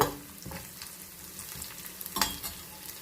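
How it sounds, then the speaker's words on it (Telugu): Garlic fries in a pan with curry leaves, a quiet, close sizzle broken by a few soft stirring scrapes and a brief louder clatter near the end. No talking. "ఈ వెల్లుల్లిపాయలు జస్ట్ ఒక వన్ మినిట్ వేగిన తర్వాత"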